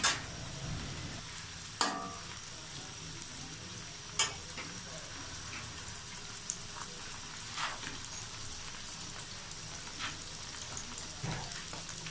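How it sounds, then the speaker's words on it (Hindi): Onions frying in oil in a kadai, a steady crackling sizzle throughout, with a few sharp clicks of a spoon against the pan, close and fairly quiet, no voices. "सबसे पहले कढ़ाई में ऑयल डालेंगे और उसमें प्याज फ्राई करेंगे।"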